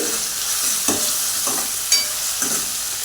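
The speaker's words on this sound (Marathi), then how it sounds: "आलं लसूण आणि खोबरं एक दोन मिनिट आपण परतून घेऊया" Ginger, garlic and grated coconut paste stir-fried in a pan for a green pea curry, with a constant hiss of sizzling and four distinct spatula scrapes spaced about half a second apart.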